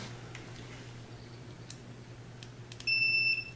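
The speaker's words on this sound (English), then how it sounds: "This is a digital multimeter, and I just set it to this setting right here, beep setting" A digital multimeter on its continuity setting gives one sharp, steady electronic beep lasting about half a second, over a low background hum with a few faint clicks beforehand.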